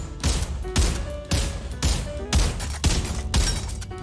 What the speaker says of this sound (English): I could not wait to shoot some of my favorite guns like the M1 Garand